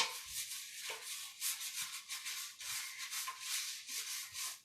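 Grime is scrubbed off a surface with Thieves Cleaner, a soft, rhythmic rubbing that comes in repeated back-and-forth strokes, close and fairly quiet.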